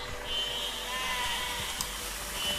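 Sheep bleat in the video game Besiege, a wavering bleat heard fairly faintly over a steady synthetic background hum.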